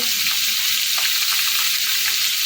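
Carrots frying lightly in a pan, a dense, even hiss of sizzling oil held at a constant loud level throughout with no voices.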